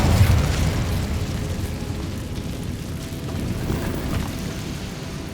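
The Incendio fire spell is cast in Hogwarts Legacy, a loud burst of fiery roar and rumble that starts strong and then holds as a steady crackling whoosh.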